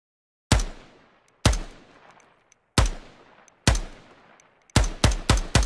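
Single gunshots from the tactical shooter game Ground Branch during a recoil demonstration, about eight sharp reports, spaced widely at first and then fired in a quick closing burst, each ringing out with a long decaying tail.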